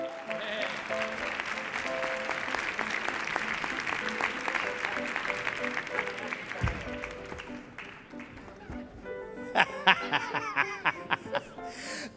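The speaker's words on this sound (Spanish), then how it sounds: "Mark Lenders, fuerte el aplauso para él." An audience at a comedy show applauds as a speaker steps up to a lectern: steady, dense clapping with some laughter, a few sharper claps and a brief musical flourish near the end.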